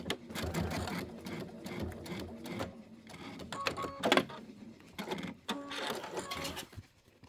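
An embroidery sewing machine stitches an Easter tile in rapid mechanical bursts, with short pauses between runs, close and fairly loud. A voice speaks now and then in the gaps.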